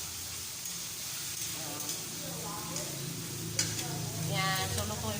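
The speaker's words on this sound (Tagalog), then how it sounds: "Lutuin muna natin mabuti yung ating kamatis." Tomatoes sizzling in a frying pan while being stirred, a steady hiss with scraping utensil sounds, close by, with a voice speaking intermittently over the cooking.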